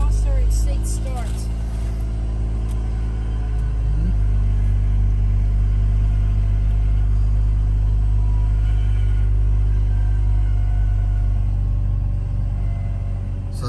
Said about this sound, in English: My first time hearing this Mazda RX8 start.